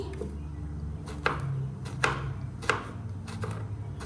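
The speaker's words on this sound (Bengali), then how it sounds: "সবজিটা কেটে নিই" Vegetables being chopped with a knife on a board in a home kitchen: a handful of sharp, irregular knocks stand out over a low, steady background hum.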